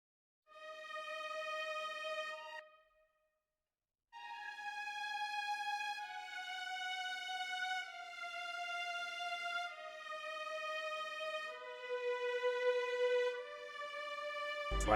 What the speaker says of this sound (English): we got another instance of BBC Orchestra.